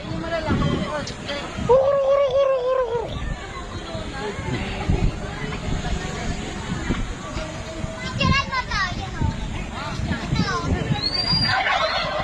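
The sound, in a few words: turkeys gobbling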